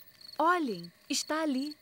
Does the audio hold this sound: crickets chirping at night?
yes